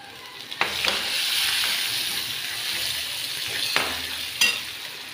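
Curry leaves and a little coconut fry in hot oil for a soybean pulao, giving a steady close sizzle broken by a few sharp crackles and stirring knocks, with no talking.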